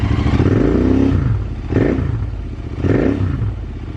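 A Royal Enfield Interceptor 650 with an AEW exhaust and dB killers fitted revs up toward 4000 RPM in three loud, close bursts, each rising and falling back to a throbbing idle.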